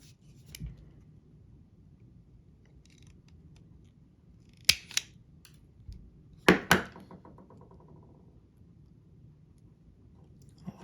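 A Kaiweets wire stripper cutting 18 gauge wire makes a few sharp, close snipping clicks, spaced apart in an otherwise quiet room.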